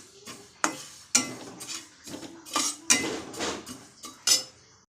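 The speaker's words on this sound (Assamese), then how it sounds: "এইখিনি মই এতিয়া শুকানকৈ ফ্ৰাই কৰি ল'ম।" Fenugreek seeds and spices are dry-fried in a pan for an Assamese jujube pickle, producing a series of sharp scraping and clinking strokes of a spoon against metal, close and irregular, with no talking.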